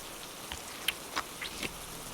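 Rain falls in the survival game Cataclysm: Dark Days Ahead as a soft, steady patter, with a few brighter droplet ticks standing out.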